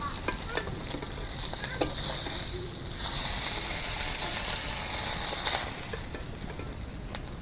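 Pieces of giant pomfret fish fry in a hot pan, giving a steady broadband sizzle that swells louder midway, with a few sharp clicks of stirring or utensil contact and no talking.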